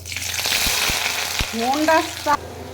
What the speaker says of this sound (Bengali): পেঁয়াজটা অবশ্যই সুন্দর করে ভেজে নিতে হবে।